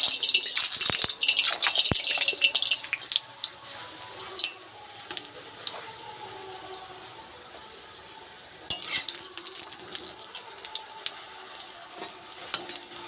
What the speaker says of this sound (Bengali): তাই এবার লুচি ভাজা হবে। তো প্রথম লুচিটা দিয়ে দিচ্ছি তেলের মধ্যে।